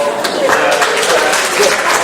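A crowd claps at a trivia night to thank the behind-the-scenes helpers, a loud, close burst of mixed applause lasting a couple of seconds, with voices mingled into it.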